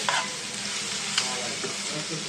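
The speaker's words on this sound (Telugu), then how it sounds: "బంగాళం ముక్కలకి మసాలా అంతా కలిసినంత వరకు ఒక వన్ మినిట్ అయితే కలుపుకున్నామండి" Potato pieces coated in chilli, coriander and cumin powder masala being stirred in a hot pan, a steady close sizzle with a couple of sharp spoon scrapes, no voices.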